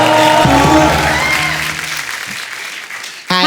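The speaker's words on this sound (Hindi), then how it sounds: "जोरदार ताली इनके लिए" Audience applause on The Kapil Sharma Show, an Indian TV comedy show: loud clapping mixed with music at first, then gradually thinning and fading, before a sudden sharp burst of sound at the very end.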